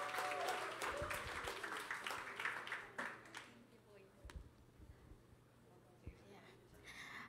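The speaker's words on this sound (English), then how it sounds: "Can we give her a round of applause?" Scattered clapping and applause fill the room, loud at first and then thinning out, with voices talking underneath.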